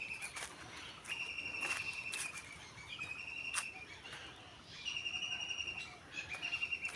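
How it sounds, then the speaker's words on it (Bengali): An unidentified bird calls repeatedly near bamboo beside a jungle riverside at dawn, a series of thin whistled notes recurring every second or so, fairly faint amid a soft hiss of insects. "নাম জানা এক পাখি ডেকেই চলেছে"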